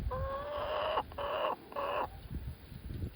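A chicken clucking close by, three drawn-out tonal calls in quick succession followed by quieter rustling, with no talk over them.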